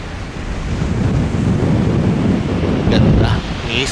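Heavy wind buffets the microphone over a steady wash of ocean surf on the coast at Maira-Ira Point, loud and continuous, with a faint voice briefly rising near the end.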